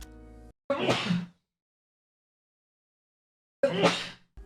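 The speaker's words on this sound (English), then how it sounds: "I'm gonna sneeze, sorry." Two short, sharp bursts of breathy noise separated by silence, like a sneeze and its follow-up, preceded by a brief low hum.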